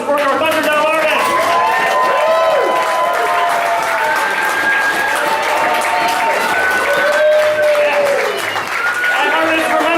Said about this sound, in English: One more round of applause for our Thunderdome artists!